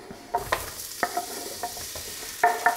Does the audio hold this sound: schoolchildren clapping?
no